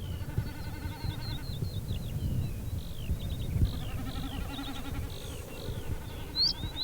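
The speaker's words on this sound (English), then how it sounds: "You're going to hear snipe displaying." Snipe drumming in display flight over an Irish bog in spring: a wavering, bleating tremolo of rapid throbbing pulses, repeated at moderate distance. Thin bird chirps and a low windy rumble sit beneath it.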